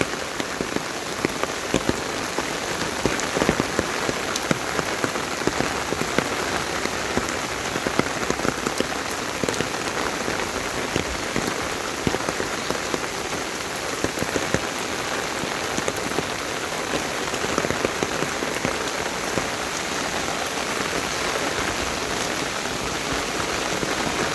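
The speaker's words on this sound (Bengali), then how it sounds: "এই বৃষ্টিতে অলরেডি চিটাগাংয়ের বিভিন্ন জায়গায় এবং দেশের অন্যান্য জায়গায় বন্যা শুরু হয়ে গিয়েছে।" Heavy, relentless monsoon rain pours down in Bangladesh during flooding around Chittagong, a loud unbroken roar of drops drumming on surfaces for the whole stretch.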